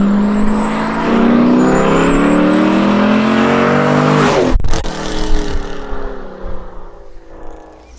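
Volvo 242 fitted with a Corvette LS V8 pulls hard in fourth gear, a loud rising engine roar with climbing harmonics that cuts off abruptly with a sharp shift thud, then settles into a rougher, lower drone.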